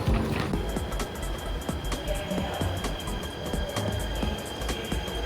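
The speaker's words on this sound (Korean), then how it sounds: "도착을 겨우 했는데 열차 들어오는 소리가 들려요" A train pulling into a station, with a continuous rumble of rolling carriages and repeated rhythmic clacks and knocks over the tracks, fairly close and steady throughout.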